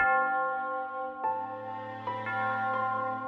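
Church bells ring out in sustained, overlapping tones, a new strike blending into the lingering hum of the previous one.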